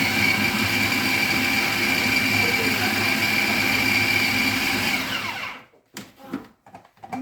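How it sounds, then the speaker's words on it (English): A blender whirs loudly and steadily as it blends pepper, crayfish and onion, then winds down and stops near the end, followed by a few faint clunks. "I'm just going to blend my pepper, crayfish, and"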